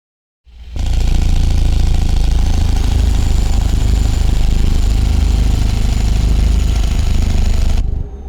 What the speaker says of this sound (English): Oh, engine brake time.